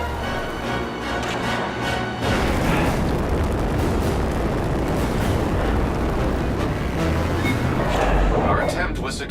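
Video game phaser fire blasting vents in a Star Trek game, with heavy booming explosions swelling into a continuous rumbling roar after a quieter start, loud and dense to the end.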